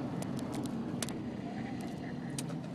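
A car drives along a road, its steady interior engine and tyre rumble continuing evenly at moderate level, with a few faint clicks and knocks from inside the cabin.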